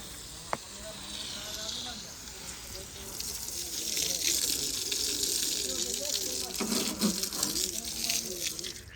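Water gushes and splashes steadily while a tractor is washed and plants are watered in rural Pakistan, a continuous hissing flow with voices talking over it in the background.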